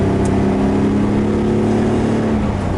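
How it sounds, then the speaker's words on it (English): Subaru EG33 flat-six (H6) engine swapped into a car, running naturally aspirated, revs with a loud, steady drone and a strong harmonic hum throughout, close to the microphone. "Love the sound of that H6."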